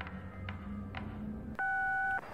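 A telephone in the horror video game They're In The House gives a steady electronic ring tone of two held pitches for about half a second, loud and alone, after a few soft beeps over a low game hum.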